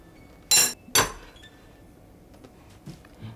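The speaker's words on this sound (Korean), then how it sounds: "오븐에서 꺼낸 직후에 살짝 충격을 주어서 비틀면 매끈하게 떨어져 나옵니다." A metal cake pan holding a freshly baked red velvet cake is knocked against a surface to free the cake. Two sharp, bright clinks sound about half a second apart, followed by quiet handling.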